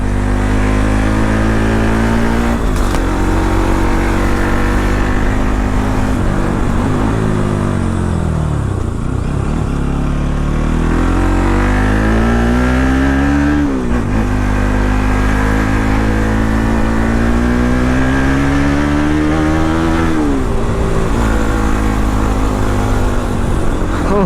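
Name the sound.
Bajaj Pulsar NS 200 motorcycle engine revving, stock exhaust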